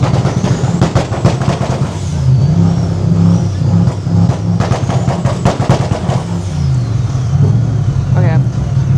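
A car engine roars and revs steadily throughout, loud and close, with rising and falling pitch and rapid mechanical pulsing; faint voices may sit underneath.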